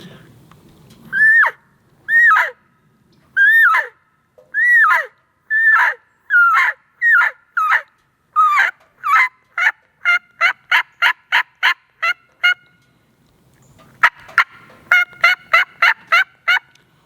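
A friction turkey call (pot call) imitates a turkey: a series of high yelps, slow at first, then speeding into rapid clucks, followed by another quick run after a pause.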